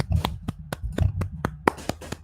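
A single person claps along with a standing ovation at a West Ham football match, giving sharp, close, irregular claps in a quick uneven rhythm against low background noise.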